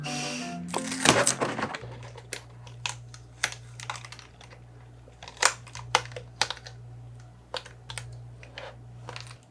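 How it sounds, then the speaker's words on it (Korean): Craft knife scoring a printed paper sheet for a diary puzzle, a series of soft, sharp scratching strokes at irregular intervals over a steady low hum, close and quiet. "이거는 제가 칼로 살살 그어볼게요."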